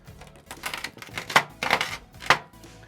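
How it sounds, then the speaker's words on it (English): A kitchen knife is pushed through the middle of a red claw crayfish, splitting it in half; a few crisp, crunching cracks of shell come close up in irregular bursts, with no talk. "Now put your whole knife down the middle and finish it off."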